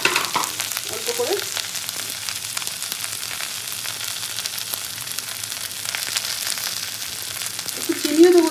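Kharkol leaves with salt and turmeric sizzle and fry steadily in a pan, a continuous close crackle throughout.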